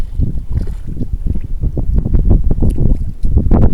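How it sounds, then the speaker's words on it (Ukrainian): Strong gusting wind buffets the microphone while perch fishing on the Dniester River, with loud, continuous low rumbling and irregular bursts, over faint water and boat movement. "Дуже сильний вітер дує."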